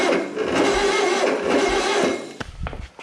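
A freshly built 2276cc VW dune buggy engine cranks hard and sputters toward life, a dense rough mechanical roar that sags slightly, then breaks into uneven bursts and pops as it catches near the end.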